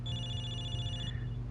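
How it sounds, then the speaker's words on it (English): A phone rings in a cinema in Zenless Zone Zero, a steady high electronic tone sustained for about a second over a low background hum, then cut off. "I can hear someone's phone ringing in the back end"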